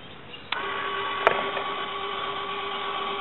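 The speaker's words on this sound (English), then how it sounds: "now you can listen to the difference it made in the motor." Steady whirring of a small DC motor on a solar tracker driven through a boost module, a continuous high-pitched whine that starts with a click and holds evenly, close up.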